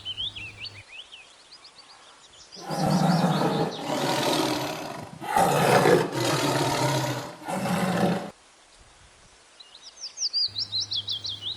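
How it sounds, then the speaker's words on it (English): A tiger gives a long, loud, rumbling roar in several surging bursts, with chirping birdsong before and after it and no voices. "T for tiger."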